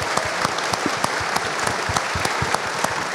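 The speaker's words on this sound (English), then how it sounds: "Can we just give a huge round of applause to all of the back of house team that you can't actually see?" A live talk audience at an electric vehicle show claps for the backstage team, a dense, steady round of applause with sharp individual claps standing out, and no voices over it.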